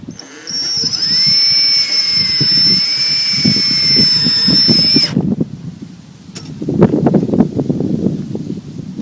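A cordless drill whines steadily and loudly for about five seconds, then cuts off, followed by handling clatter and rustling during work on a 1966 Mustang quarter panel replacement.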